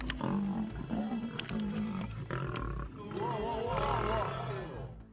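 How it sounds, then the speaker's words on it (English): A lion in a cage in Thailand gives deep rumbling growls and roars, loud and close, while a narrator talks over it. "The lion's deep growls echoed like thunder, shaking the cage and rattling the man's courage."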